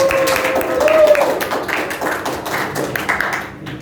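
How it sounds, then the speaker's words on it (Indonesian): Applause from the audience at a candidates' debate, a dense spread of hand claps filling the clip at moderate volume, with a brief tonal note near the start and no speech over it. "Tepuk tangannya dulu dong"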